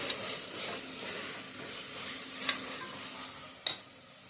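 Chili powder is stirred into a frying masala for chicken biryani, a faint continuous sizzle and hiss broken by a few spatula scrapes and one sharp clink against the pan near the end.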